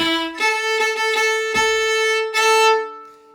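A bowed fiddle plays a short phrase from a Prince Edward Island reel with quick grace-note cuts ornamenting a sustained note, bright and close, ending on a held tone.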